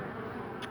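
Honeybees buzz steadily at a big hive inside a chimney, a close, dense, continuous drone with no voices.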